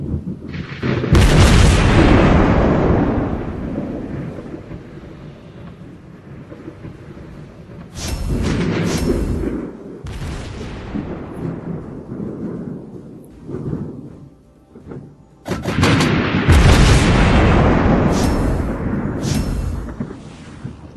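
Naval gunfire in World of Warships Blitz, fired from the Roma battleship: three heavy, booming salvos, each a loud blast that rolls off into a long rumbling decay, separated by quieter stretches.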